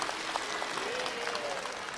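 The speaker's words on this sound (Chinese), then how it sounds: "谢谢各位的掌声啊。" At a Deyunshe crosstalk comedy show, the theatre audience claps steadily as a continuous wash of many hands while a performer's voice speaks briefly over it.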